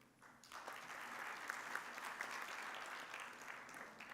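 Sustained applause from a forum audience, a dense wash of clapping hands that holds steady for several seconds, fairly distant and without talk.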